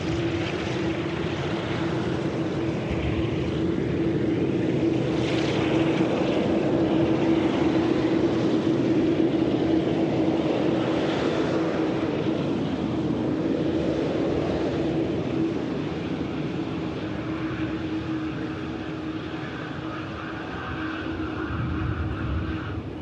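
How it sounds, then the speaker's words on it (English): A Boeing 787 Dreamliner airliner on final approach gives a steady, moderately distant engine roar with a constant low whine, holding at even loudness throughout without speech. "Dreamliner action coming up. Mahon flight now. Going on to finals."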